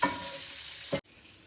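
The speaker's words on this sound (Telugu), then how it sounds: "ఇలా ఫ్రై చేసుకుంటూ ఉండాలి" Chicken frying in a pan with curry leaves for Nellore chicken fry, a continuous close sizzle with a short scrape of stirring before it cuts off abruptly.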